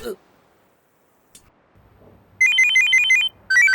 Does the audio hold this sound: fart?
no